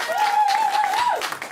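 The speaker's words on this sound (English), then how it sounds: "Don't applaud that." A studio audience at a comedy panel show bursts into brief, loud applause, with a sustained whistle riding over the clapping throughout.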